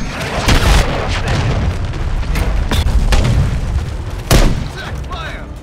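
A stun grenade going off in Call of Duty MW3 multiplayer on the Stash House map, heard as loud booming blasts and sharp bursts amid ongoing gunfire, with in-game voice callouts.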